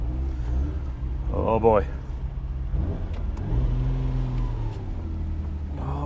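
A Ferrari Dino 246GT's engine hums and revs briefly while driving, a moderate mid-range drone that rises in pitch once early on, with someone talking over it.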